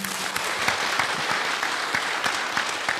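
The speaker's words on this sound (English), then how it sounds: "So I want us to appreciate the board and the supervisory committee with a round of applause." Delegates at an annual meeting give a round of applause for the board and supervisory committee: steady, even clapping from a sizable crowd that fills the whole moment.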